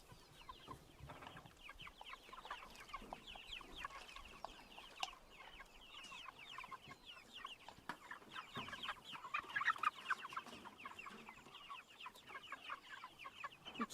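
Six-week-old Cornish Cross broiler chickens cluck and peep continuously as a busy flock, many overlapping calls at moderate distance against a faint background.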